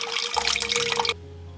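Liquid is drained from a pot after steeping onion for homemade sprats, pouring out in a brief splashing stream for about a second, then stopping abruptly, leaving a quiet hum.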